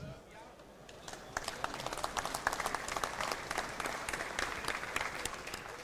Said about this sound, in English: I love the many clapping here